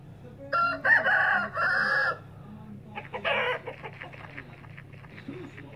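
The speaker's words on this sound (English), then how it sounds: "chicken." A farm chicken clucks in short bursts and a rooster gives a loud, close cock-a-doodle-doo crow, followed by quieter scattered clucking.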